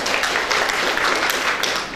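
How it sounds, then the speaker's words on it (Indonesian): An audience at a national health seminar in a hotel, Hotel Atria, breaks into dense, continuous applause, many hands clapping together at a steady level for the whole stretch. "Tepuk tangan untuk kita semua."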